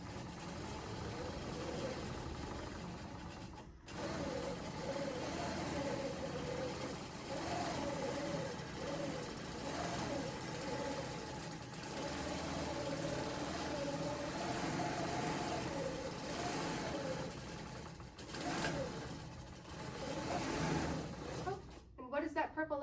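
A longarm quilting machine running over a quilt to stitch a pantograph pattern gives a steady close motor hum with faint ticks from the moving head and one brief stop. Voices talk over it at times.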